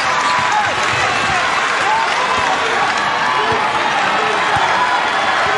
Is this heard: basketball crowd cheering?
yes